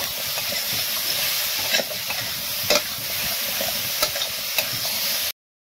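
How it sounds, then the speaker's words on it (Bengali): Vegetables including tomato frying in a pan with salt, turmeric and chili powder, giving a loud continuous sizzle under occasional clattering stirs of a spatula, ending abruptly. "দিয়ে দেবো হলুদ গুঁড়ো, আর দিয়ে দেব লঙ্কা গুঁড়ো। সবজিগুলো ভালো করে ভেজে নেব।"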